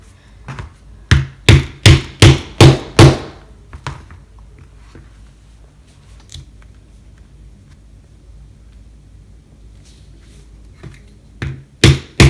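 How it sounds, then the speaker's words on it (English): A hole punch is hammered through leather for a rivet on a hatchet sheath, with a rapid run of about eight sharp, loud strikes. Quieter handling follows, then a few more blows at the end. "we can punch that with a hole punch and make a spot for a rivet"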